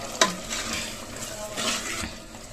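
Chicken biryani ingredients fry in oil with a bright, close sizzle, punctuated by a sharp utensil knock at the start and repeated scraping stirs against the pan.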